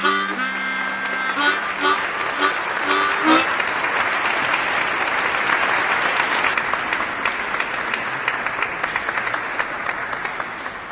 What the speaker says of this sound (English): Did you hear that thunderous applause?